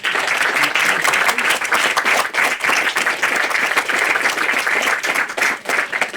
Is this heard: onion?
no